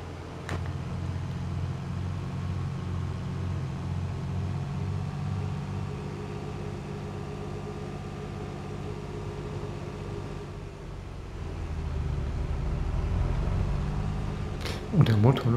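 A tractor engine idling in Farming Simulator 22 on Elmcreek, a steady low drone that holds for the whole stretch, builds slightly toward the end and stops with a few clunks.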